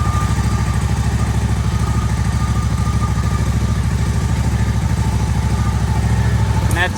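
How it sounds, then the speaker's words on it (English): The small engine of a Terra-Spray turf sprayer runs close by with a rapid, even chugging putter that holds steady throughout, loud and uninterrupted, with no talking. "I can probably start it up for you quick and show you."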